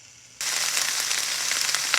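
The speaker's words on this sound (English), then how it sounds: "Listen to that sizzle." Zucchini and onion sizzle in a hot pan, a bright crackling hiss that begins suddenly and carries on steadily and close, with no talking.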